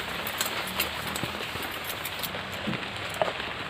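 Steady monsoon rain hisses continuously as a broad wash of sound, with a few faint taps and clicks on top and no voices.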